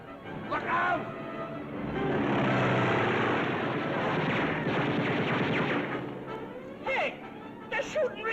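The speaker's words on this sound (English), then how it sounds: "they're shooting real bullets" Gunfire rattles through a dense, loud wartime air-combat scene from an Abbott and Costello movie trailer, with sustained rumbling engine-like noise and bursts of shots, and excited voices shouting briefly near the end.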